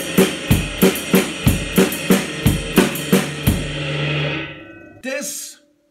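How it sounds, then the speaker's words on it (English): A drum kit plays a steady waltz beat in three, kick and snare strokes repeating evenly with a ringing cymbal pattern over them, the last hit left to decay before a short closing crash. "That means the snare drum and bass drum are played boom ta ta boom ta ta."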